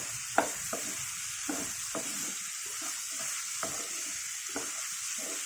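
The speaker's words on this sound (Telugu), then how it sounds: "ఇప్పుడు అరటి దూట వేసుకున్నాం." Banana stem being stir-fried in a pan with moong dal, a steady close sizzle with periodic scraping clicks from a spoon stirring, no talking.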